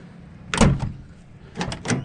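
Three solid thumps of car front doors slamming shut, one alone then two in quick succession, close by with quiet background between.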